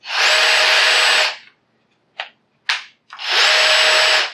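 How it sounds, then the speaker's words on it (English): A Metabo BS 18 LTX BL cordless drill with a right angle attachment whirs at high speed for about a second, stops, gives two brief bursts, then runs steadily again, loud and close. "You've got a 90 Newton meter, 66 pound-foot right angle drill with this attachment."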